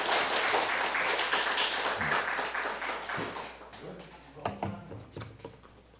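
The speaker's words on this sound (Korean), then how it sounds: "우리 다시 한 번 더 크게 박수 한번 쳐드릴까요?" Congregation applauding during a Sunday church service, a loud burst of many hands clapping that thins into scattered, sharper claps near the end.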